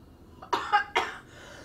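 A couple of quick, sharp coughs close by during a cardiorespiratory physiotherapy session, loud against near silence.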